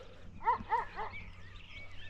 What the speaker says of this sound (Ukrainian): собака як не унімався, цілу ніч так не унімається